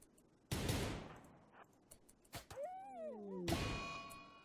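A colonist opens fire in the colony-sim game Rimworld: a loud burst of gunshots and a clanging impact, followed by ringing, warbling tones and a second sharp burst near the end.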